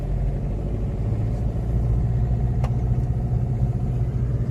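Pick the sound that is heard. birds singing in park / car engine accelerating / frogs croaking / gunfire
car engine accelerating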